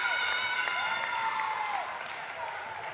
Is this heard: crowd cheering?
yes